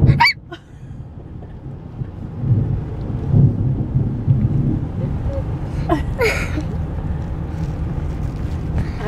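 Thunder after a lightning flash rumbles low and heavy through a storm, a long rolling swell building over several seconds, while people speak and exclaim briefly nearby.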